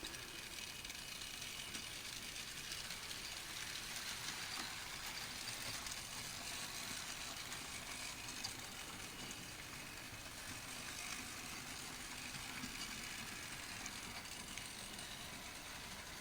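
A model steam locomotive, Sir Nigel Gresley converted to 3-rail and pulling teak coaches, runs steadily with its valve gear and wheels turning, giving a continuous faint mechanical whirr and rattle throughout with no talking.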